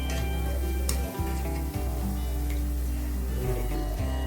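Potato bites fry in hot oil with a steady, close sizzle and crackle that runs throughout, broken by a few sharp ticks and brief dips.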